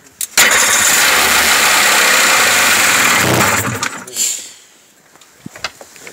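A carbureted Sea-Doo 3D personal watercraft engine cranking and catching, then revving loudly under throttle for several seconds before dropping away, with a few faint knocks and voices afterward.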